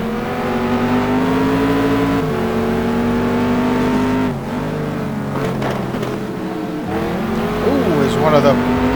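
A GT2 race car heard onboard at Indianapolis in a racing video game roars loudly and steadily, its engine pitch climbing through gears with a dip around a shift, while a commentator talks over it.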